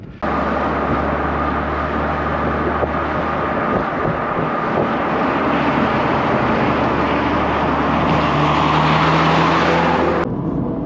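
A Mazda MX-5 Miata fitted with uprated springs drives on a wet, drying road with downhill braking and sweeping corners, its engine drone and road roar loud and steady, cutting out abruptly near the end.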